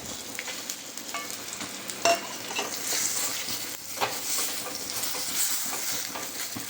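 Coriander seeds, cumin and dried red chilies fry in a pan with a steady, close sizzle and crackle, with a couple of brief louder pops or stirring clinks along the way.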